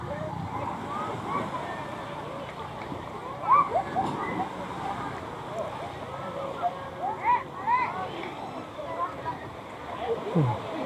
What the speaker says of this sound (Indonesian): ombaknya lagi tenang nih